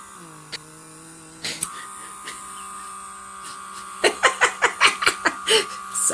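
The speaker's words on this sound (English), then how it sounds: "You could hear the suction." A Comedo pore vacuum running with a steady electric hum and whine that shifts pitch as suction engages, then a string of rhythmic short pulses, close to the microphone, with brief laughter-like bursts.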